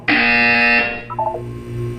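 A loud electronic buzzer from the video game Portal sounds as one sustained harsh tone for most of a second, then cuts off, leaving a quieter background hum with a brief soft chime.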